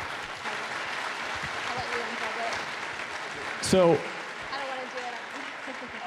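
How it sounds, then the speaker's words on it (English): Applause from a small audience at a Kansas City startup pitch event rises under a speaking voice, with a brief louder burst near the middle. "Big round of applause for you guys."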